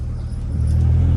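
A Honda car drives along, with a loud, steady low engine and road rumble that swells slightly toward the end.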